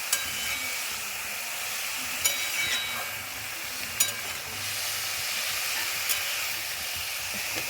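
Potato, carrot and beet being stirred in a kadai over the heat, a soft, continuous sizzle with a few sharp clinks and scrapes from the spoon against the metal.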